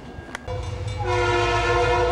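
A train's horn sounds loudly and steadily close by as the train passes. The rumble of the rail cars runs underneath.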